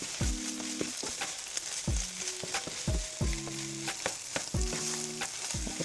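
Freshly shredded pepper jack cheese stirred into food in a pan, irregular scraping and clinking of a utensil over a soft sizzle, close by with no talking.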